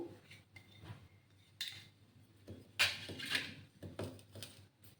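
Mango ginger pickle is mixed with mustard powder, salt and chilli, heard as soft, close scraping and clinking of a spoon against a bowl in scattered strokes.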